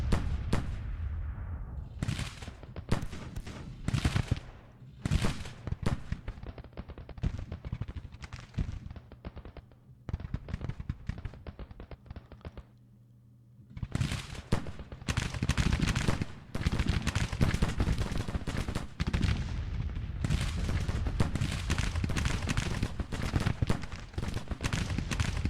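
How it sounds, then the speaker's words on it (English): Gunfire in the Civil War strategy game Grand Tactician, with dense rolling volleys of musketry and booming artillery in repeated bursts, loud and continuous with brief lulls. "There go the gunfire at least."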